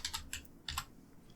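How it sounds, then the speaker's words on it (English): A few quick keystrokes on a computer keyboard, close and faint, with a slightly stronger press near the end like an enter key, in a quiet room. "Bootstrap and press enter on your keyboard."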